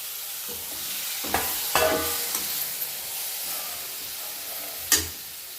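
Three tomatoes dropped into a hot pan on a large gas flame, sizzling steadily with a few sharp stirring clatters and spits over a constant frying hiss.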